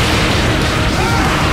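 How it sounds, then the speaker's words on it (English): A golden Death Ball energy attack explodes in Dragon Ball Z: Kakarot, a loud, sustained rumbling blast filling the whole moment with dense, roaring low-end noise and no talking. "So here's Death Ball in all its glory."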